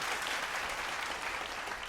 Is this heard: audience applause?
yes